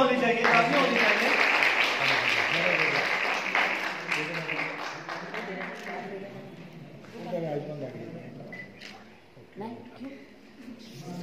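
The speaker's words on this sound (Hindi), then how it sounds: "तालियां होनी चाहिए, तालियां होनी चाहिए।" An audience at an Oriflame testimonial event claps loudly and steadily for a few seconds, then the applause fades as someone talks over it and continues speaking.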